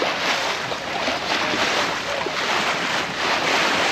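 Steady wind rushes past a sailboat smoothly under way at sea, with waves and water washing against the hull and wind buffeting the microphone, continuous and fairly loud throughout without speech.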